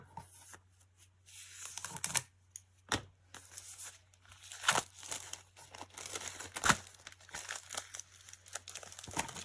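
Crinkly plastic wrapping being pulled and torn open from a sealed 6x6 paper pad, with irregular bursts of crackling and rustling, close by and no talking.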